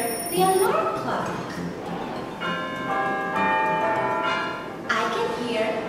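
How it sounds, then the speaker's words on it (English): A bell rings with a sustained, resonant tone that fades out, with a dog barking faintly nearby. "I can hear the sound of a bell."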